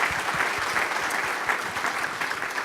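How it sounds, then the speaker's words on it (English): Conference audience applauding event staff, a steady, dense wash of clapping from a large crowd that holds evenly throughout with no voices on top. "So a round of applause for that group."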